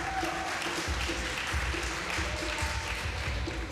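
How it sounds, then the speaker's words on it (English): An audience at a fa'afafine festival pageant breaks into steady, dense applause that fills the hall, holding at an even loudness from start to finish. "how about one more round of applause for the girls tonight?"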